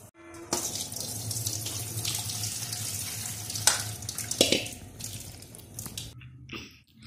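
Cooked hakka noodles are drained into a colander in a home kitchen, water pouring and splashing steadily for several seconds with a few louder sloshes, no talking.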